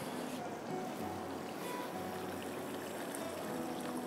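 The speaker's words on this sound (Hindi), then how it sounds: "अब मैं इसमें थोड़ा सा पानी डाल रही" Water poured into kofta gravy in a home kitchen, a continuous soft gurgling splash that runs steadily for several seconds at low, even volume.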